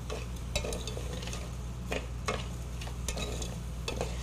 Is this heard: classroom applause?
no